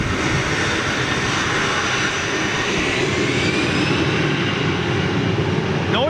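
A TUI Boeing 787-9 departing Manchester Airport for Bridgetown gives off a loud, sustained jet engine roar that holds steady and close for the whole stretch, with no talking over it.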